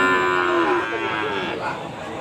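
Cattle at a livestock market in Kragan, Rembang, Central Java, Indonesia, give a long loud moo with a strong tonal pitch that slides and fades, set against steady crowd and market noise.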